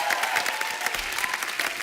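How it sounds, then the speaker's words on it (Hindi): Studio audience applauding at a Hindi talk show with S. S. Rajamouli and Jr NTR, a steady dense wash of claps held for about two seconds with no talk over it. "जोरदार तालियां हो जाए"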